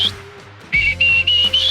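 A human whistle imitating the kiki call of a wild turkey: a high thin note, a short break, then a run of three rising whistled phrases, clear and close with no talking.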